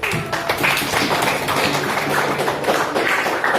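A classroom of students applauds after a group presentation, dense continuous clapping that fills the room at close range, with no talk over it.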